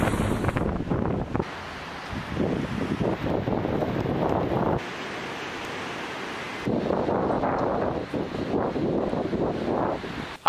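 Strong wind buffets the microphone in loud, roaring gusts, with brief lulls between the blasts and no voices.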